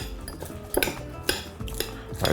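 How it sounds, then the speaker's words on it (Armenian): A metal fork mashes eggplant salad in a bowl, producing a quick series of sharp clinks and scrapes against the dish, close and fairly quiet, with no talking. "շարունակում եմ պատառաքաղով տրորել։"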